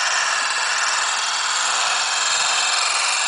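A Tornado Spheres spinning toy whirs at high RPM after being blown, giving a loud, continuous high-pitched hiss and whine up close with no talk.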